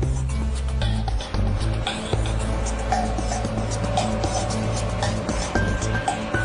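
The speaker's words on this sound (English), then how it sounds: "you can see how quickly Stryker can reposition itself and get ready to take off" A Stryker armored vehicle repositions in an outdoor field, with a continuous, loud engine rumble and a mechanical whine holding steady the whole time.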